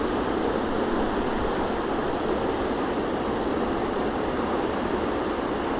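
River water flowing below the Masuleh mountains near Rasht, a steady, loud, broadband rush with no breaks, close by and heard on its own.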